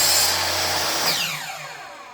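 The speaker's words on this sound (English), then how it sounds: "Now what I do when I'm running a miter saw like this, the small parts, I'll run it down and cut it" Miter saw blade spinning down after cutting a small part, a loud high whine that fades as the motor coasts to a stop, alone without talk.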